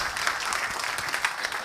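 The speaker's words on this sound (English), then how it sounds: "A big round of applause." Audience applause opening an AI infrastructure summit talk, a brief, steady wash of many hands clapping at an even level throughout.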